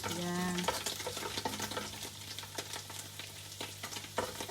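Garlic sautéing in melted butter in a pan, a close crackling sizzle with repeated stirring scrapes, fairly quiet overall, with no clear talking.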